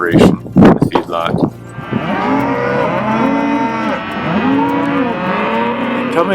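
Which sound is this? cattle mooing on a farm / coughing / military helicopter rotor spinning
cattle mooing on a farm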